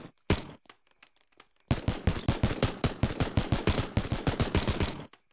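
Gunfire in the VR game Boneworks: one sharp shot, a pause with a faint steady hum, then a rapid, evenly spaced burst of about twenty close, loud shots.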